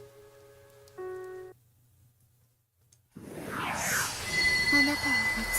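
Rain falls steadily in the visual novel Chaos;Head Noah, a dense wash of drops coming in after a quiet gap and growing louder, with a faint whistling tone on top.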